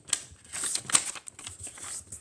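Paper being folded into an origami sword, a brief stretch of crisp crinkling and rustling with a few sharper creases, close and steady with no talk.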